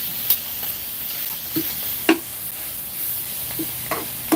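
Sweet cabbage stir-fried in a pan gives a continuous soft sizzle, broken by a few short scrapes and knocks of the spatula as it is tossed, with no talking.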